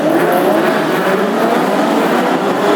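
Classic hot rod race cars on warm-up laps at Wimbledon Stadium, a loud, continuous roar of several engines droning together around the oval, with a steady rumble that barely changes throughout.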